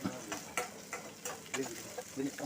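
Onion and green chillies fry in oil for a beef dish, a close, light crackling sizzle with intermittent scraping taps of stirring.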